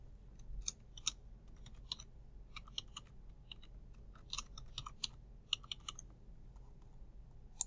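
Typing on a computer keyboard: soft, quick clusters of key clicks in short bursts with brief pauses, close and quiet in a still room.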